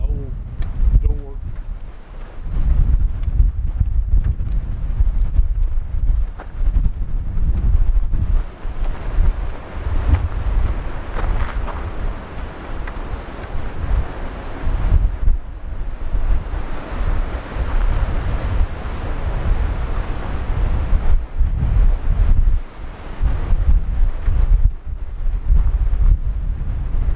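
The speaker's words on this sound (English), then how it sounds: "Gusting out here. Gusting pretty hard today." Strong wind gusts buffeting the microphone outdoors on a back road along Route 66 in New Mexico, a loud rushing roar that swells and eases throughout, with a voice briefly speaking beneath it.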